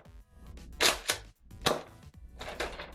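X-Shot Regenerator toy blaster firing: a few sharp, snappy pops with short clacks between them, close and fairly loud in a quiet room.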